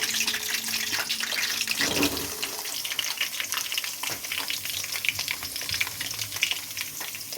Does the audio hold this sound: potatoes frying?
yes